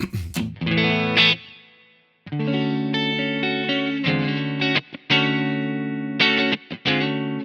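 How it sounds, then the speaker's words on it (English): Clean electric guitar chords ring out through an amp with reverb, each strum sustaining and trailing off in a spacious wash. "Let's turn on the reverb, why not?"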